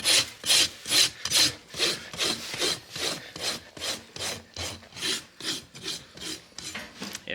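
A farrier's rasp scrapes rhythmically across the hoof of a horse with laminitis, about fifteen even, close strokes that soften slightly toward the end, with no talking.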